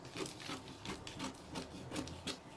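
Scissors cutting through fabric for a sewing project, a steady run of soft rasping snips repeating close by with no talking.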